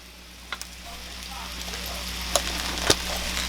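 Onions go into a hot pan for a seafood lovers dressing, raising a low, even sizzle that grows slightly, with a few sharp crackles and a clink of the spoon.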